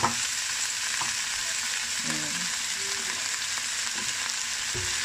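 Lotus root sautés in a pan with onion and garlic, a dense close sizzle with a few light stirring clinks and scrapes, no talking.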